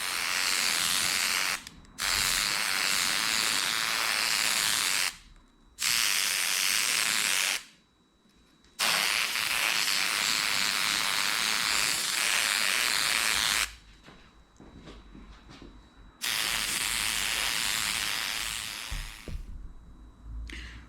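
An airbrush sprays paint in long steady hissing bursts over a custom Willie G points cover, with several short silent pauses between passes and no voices.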